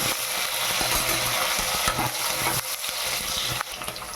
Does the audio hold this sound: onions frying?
yes